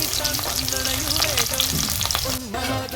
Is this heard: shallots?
yes